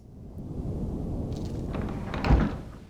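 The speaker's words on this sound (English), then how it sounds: "Thought I heard a creaking." Creaking door in the video game The Dark Eye, a drawn-out groaning creak over a low rumbling bed, growing louder and peaking with a heavy thud near the end, with no talking.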